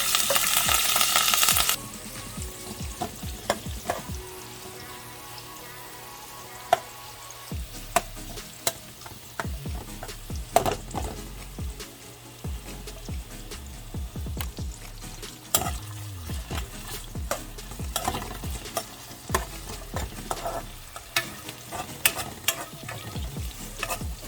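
Seasonings fry in hot oil in a pot while being stirred for saltfish and butterbeans, a steady close sizzle broken by frequent sharp scrapes and clinks of the spoon against the pot, with no talking.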